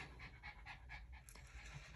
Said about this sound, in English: I don't know if you guys can hear him panting.